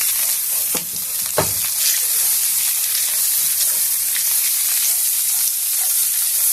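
Butter sizzling in a hot pan while cooking a quick snack recipe, a loud, continuous frying hiss with a couple of brief clinks near the start.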